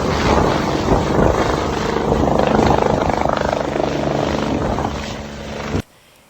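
Loud helicopter taking off on a mountainside, rapid rotor chop and turbine roar filling several seconds before cutting out abruptly.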